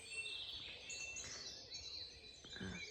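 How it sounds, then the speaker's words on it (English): Many birds sing and chirp at dawn in a frosty park at sunrise, a dense layer of overlapping high calls running continuously at moderate distance, with no talking. "But the birds are just singing away."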